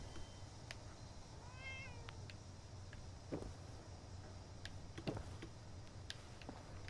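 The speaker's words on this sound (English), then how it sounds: "I don't know if you can hear in the background, there is a meowing cat" A cat inside the game Fallout 76 gives a short rising meow in the background, faint beneath a low ambient hum, with scattered clicks and taps around it.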